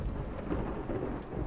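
Thunder rumbles and rain falls in a Roblox tank simulator game weather effect, a steady low roar of rain with deep rolling thunder throughout, continuous and fairly quiet, no talk.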